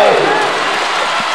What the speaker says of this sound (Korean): 경기장이 환호성으로 가득 찼습니다.